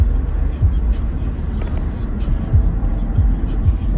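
Steady car traffic rolls past on a three-lane expressway in Malta, a continuous low rumble with a few vehicles swelling closer at intervals, heard alone without talk.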